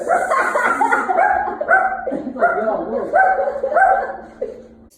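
A small chihuahua yaps and whimpers continuously at close range, a run of high, whiny barks and cries with brief pauses between bursts.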